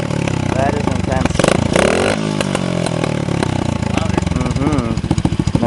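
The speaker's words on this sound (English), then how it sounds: "May sound like a normal dirt bike, but at heart it's not." A dirt bike with a cheap homemade custom muffler revs hard up close, its loud rasping engine note rising and falling, with people talking over it.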